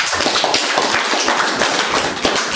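Audience applause at an Islamic motivational talk, a loud, dense burst of many hands clapping that carries on steadily for a couple of seconds with no voices over it.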